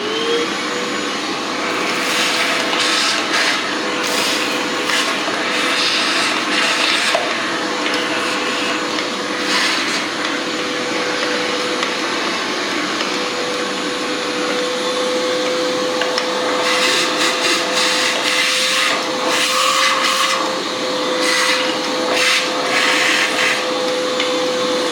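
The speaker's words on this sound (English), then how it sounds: "So let me grab the vacuum here, clean this out, then we'll reinstall our coils." An Oreck XL upright vacuum runs steadily and fairly loud, clearing debris from the spark plug wells on a Hyundai Sonata engine's valve cover, with a constant motor whine and some brief rattling of sucked-up grit.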